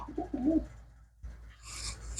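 Pigeons being checked one by one by a dealer coo in low, warbling bursts at first, then a pause and scratchy rustling with higher hissy noise toward the end.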